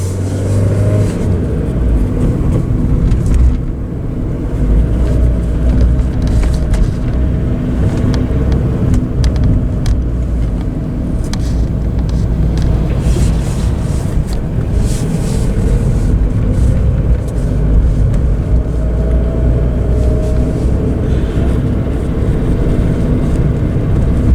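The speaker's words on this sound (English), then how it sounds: "Oh, there's a car coming" A car drives past on a road in Azay-le-Ferron, France, a steady close engine rumble and tyre noise filling the whole stretch with no talk over it.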